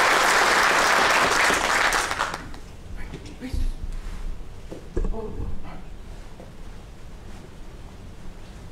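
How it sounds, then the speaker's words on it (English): Loud audience applause at a military graduation ceremony honoring drill sergeants at an ordnance school, a burst of clapping that cuts off after about two seconds, followed by quieter room noise and scattered thumps. "Please give a warm round of applause to thank our dedicated and talented drill sergeants."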